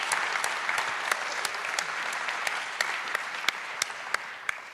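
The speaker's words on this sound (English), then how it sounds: "So maybe give her a grand applause" Sustained applause from a panel event audience, a steady wash of many hands clapping with a few sharper individual claps standing out.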